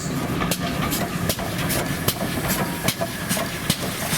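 Train accelerating past at a heritage railway centre in Didcot, a steady loud rumble and hiss with rhythmic clacks of wheels over rail joints, close by and with no voices.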